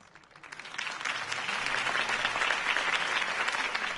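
A crowd at a political rally in the Batman Telltale video game breaks into applause that builds quickly from a few claps into a dense, sustained roar of clapping.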